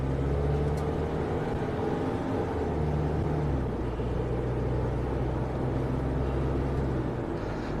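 A Ford V363-chassis motorhome engine rumbles steadily as it accelerates on the road, a low continuous drone with road and wind noise, moderately loud and without talk.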